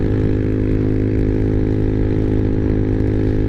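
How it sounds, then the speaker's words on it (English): Exhaust of a Honda Navi small motorbike while riding on a cold day, a steady buzzing engine drone held at a constant pitch throughout, loud and close with no talk. "Like the sound of the exhaust, definitely makes it feel like it's going a lot, or sounds like a lot faster than it is."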